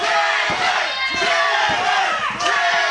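A wrestling crowd at a live No Ropes match roars and chants continuously, loud and dense, with sharp slam-like thuds from the ring punching through the noise.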